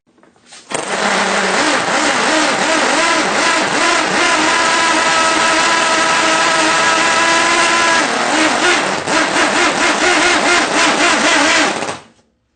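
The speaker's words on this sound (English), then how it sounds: "Now first I'm going to start this up to show you just how crazy this little engine sounds." A small Wankel rotary engine running on a bench fires up and runs at a high, buzzing, raspy pitch, loud and steady, with a shift in tone partway through before shutting off.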